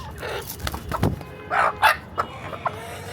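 A hen clucks close by in a few short bursts, soft throaty calls separated by brief pauses, with light background noise and no clear speech.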